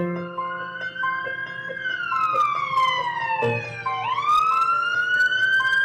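A loud electronic police siren wails continuously, its pitch sweeping down then rising again, steady and close with no talking.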